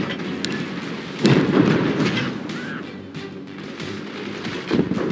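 Smart missiles exploding in the video game Forts: a deep, booming blast swells after a moment and rumbles on, with another thud near the end over a noisy battle background.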